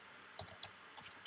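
Keys on a computer keyboard tapped in an office setting, a few quick soft clicks spaced unevenly over about a second, close and fairly quiet with no talking.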